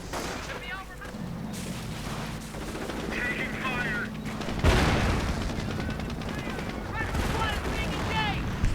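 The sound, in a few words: machine gun fire in a video game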